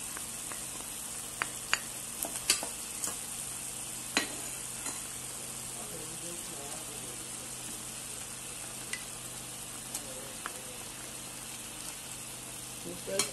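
Blended crayfish going into a hot pot of sizzling oil for okra soup, a soft continuous fry with sharp clinks and scrapes of a spoon stirring, faint and close.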